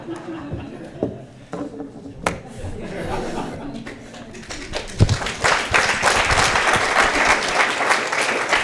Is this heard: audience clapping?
yes